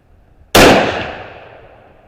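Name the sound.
rifle shot from Howa 1500 action with prefit barrel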